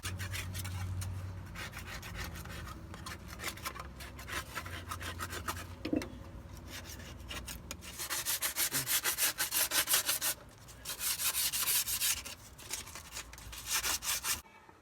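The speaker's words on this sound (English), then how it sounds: "So now we're gonna scrape the old silicone off and put the new cover on." Old silicone scraped off a differential cover on a 2008 Mazda B2300 pickup: close, repeated rasping strokes that grow louder and denser in bursts toward the end, with no talk.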